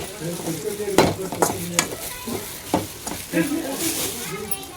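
Okra and onion frying in oil in a home kitchen, with a steady sizzle and several sharp scrapes as a spoon stirs the pan, under a faint background voice.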